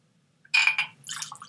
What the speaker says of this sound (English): I thought I was pouring myself a regular drink at first.